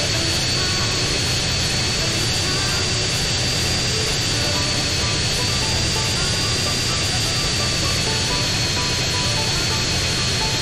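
Loud, unbroken jet plane engine noise from GTA San Andreas, a sustained roar with a piercing steady whine on top, close and dominant the whole time.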